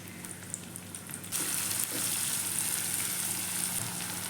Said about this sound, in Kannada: ಎಣ್ಣೆ ಬಿಸಿಯಾಗಿದೆ. ಕಟ್ ಮಾಡಿಟ್ಟಿರುವಂಥ ಈರುಳ್ಳಿಯನ್ನು ಹಾಕ್ಕೊಳ್ತಾ ಇದ್ದೀನಿ.